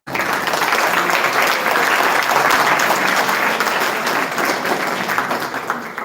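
Sustained applause from a conference audience at a business school event, dense and steady clapping from a large crowd that stays loud throughout before tapering slightly at the end.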